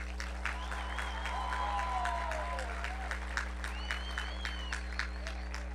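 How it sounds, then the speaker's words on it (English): Graduation ceremony crowd applauds at a distance under a strong steady hum, with scattered individual claps and some whistle-like tones rising over the room noise. "Please give Ms. Stradoff a round of applause."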